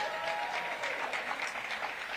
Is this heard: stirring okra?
no